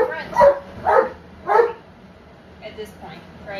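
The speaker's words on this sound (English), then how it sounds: "Because Solo is like, never been in a crate, he's losing it." A dog in a crate that it has never been in before barks three times in quick succession, loud and close, followed by softer whimpers or yips, with no talk over it.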